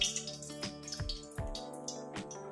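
Sago for payasam poured into hot water in a pan, a few soft drips and plops spaced irregularly over a couple of seconds, close and quiet.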